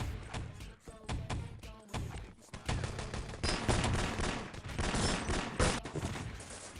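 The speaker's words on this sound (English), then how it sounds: "Here comes the nade" Gunfire and explosive blasts from a multiplayer video game shooter, including a thrown grenade, roaring loud and continuous with dense bursts throughout and faint commentary underneath.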